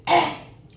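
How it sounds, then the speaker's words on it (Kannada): A single short, breathy cough close to the microphone, fading quickly into quiet. "ಕೆಮ್ಮು"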